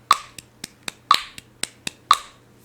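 Sharp, dry hand claps or snaps in a steady practice rhythm, close and clear, with stronger accented hits on every fourth beat and lighter ones between, no talking.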